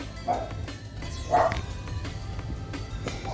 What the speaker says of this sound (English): dogs are barking as you can hear